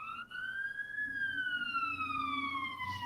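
An emergency siren wails outside, a loud tone rising then slowly falling as it passes, with faint murmuring voices underneath.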